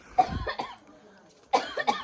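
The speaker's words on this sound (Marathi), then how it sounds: "खोकला" A single close cough, a short pause, then two more quick coughs; no talking.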